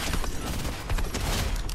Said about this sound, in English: I'm gonna shoot this guy.